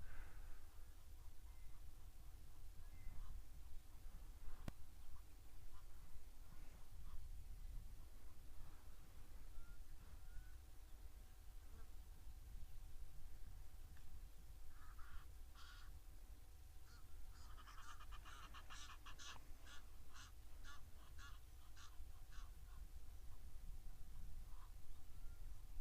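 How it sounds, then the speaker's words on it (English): Egyptian geese call from a distance at a nature reserve, a series of harsh honking, cackling notes that build into a repeated rhythmic chorus over steady outdoor background noise. "Egyptian geese having their say now."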